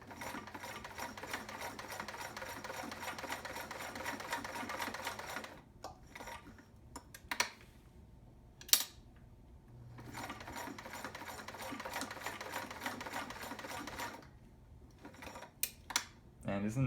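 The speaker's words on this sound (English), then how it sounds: "here we are back with 8 layers of denim now with this Kenmore" Heavy-duty vintage Kenmore 158.13200 sewing machine stitching through eight layers of denim, a fast, steady, close mechanical whirr that pauses briefly midway with a few clicks, then runs again.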